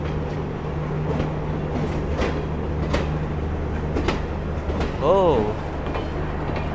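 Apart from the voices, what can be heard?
passing train hauled by WAP-4 electric locomotive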